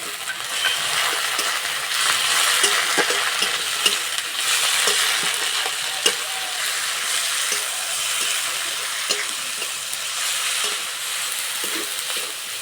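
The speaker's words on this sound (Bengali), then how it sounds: "পেঁয়াজ আর টমেটো ভালো করে ভেজে নিয়েছি" Onion, tomato, green chili, garlic paste and ginger paste frying in a pan, a steady close sizzle broken by scattered clinks and scrapes of stirring, with no voices.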